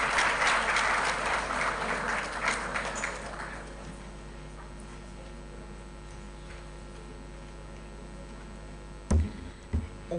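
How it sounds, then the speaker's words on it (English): Applause from delegates in the ECOWAS Parliament's 2024 first ordinary session chamber, moderately loud for the first three seconds and then tapering into quiet room tone, with a couple of brief knocks near the end. "Can we applaud her?"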